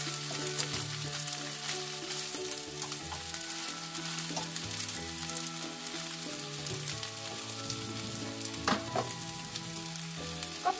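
An omelette with Sesbania (cork-tree) flowers fries steadily in a pan, a continuous close sizzle with crackling and a few utensil clinks, no talking.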